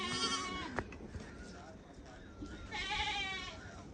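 Goats at a pen bleat in two clear bursts, one at the start and another near the end, with rustling and movement between them.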